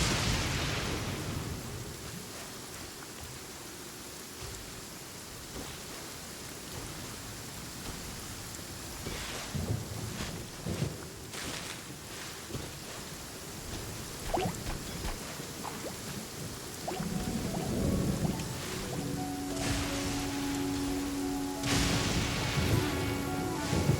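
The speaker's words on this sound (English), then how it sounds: "Without lightning to give warning, the sound of thunder is quite startling." Thunder rolls during a rainstorm in the video game Genshin Impact, deep rumbles swelling over continuous rain hiss, with a few louder cracks and a faint musical tone near the end.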